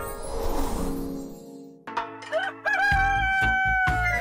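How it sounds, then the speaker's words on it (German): A rooster crows loudly and close after a fading musical tone, its drawn-out call ringing over a sustained backing tone. "Ich finde den Hahn blöd."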